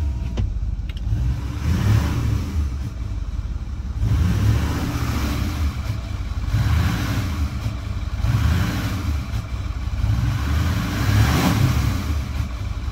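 A Ford 6.4L Powerstroke diesel with a boost fault and heavy smoke runs steadily close by, its loud low rumble rising and falling in slow, regular surges, with no one talking.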